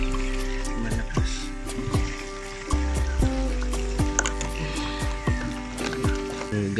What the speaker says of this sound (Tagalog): maraming tubig, mabilis mapuno tayo ng isa.